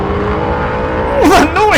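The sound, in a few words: Krait spaceship engine in video game Elite Dangerous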